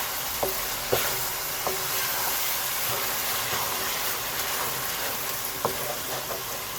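Grated carrots for gajar ka halwa fry in ghee with a steady, close sizzle, broken now and then by clicks and scrapes of stirring against the pan.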